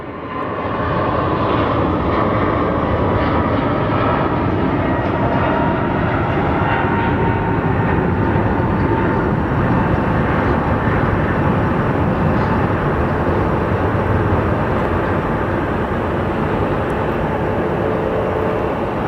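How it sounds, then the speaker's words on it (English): Jet engines on a Southwest airliner spool up at Phoenix Sky Harbor Airport, a loud sustained roar and whine that swells and holds steady, heard from a spotting position with no voices over it. "So up next is going to be Southwest 3650 going to Albuquerque. As it powers up, let's go take a look at it."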